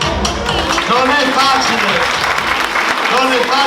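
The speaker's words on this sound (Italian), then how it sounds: "volevo fare l'applauso e chiederlo a voi per le bravissime modelle." An audience at a fashion show clapping for the models, a dense steady wash of applause with a voice speaking over it.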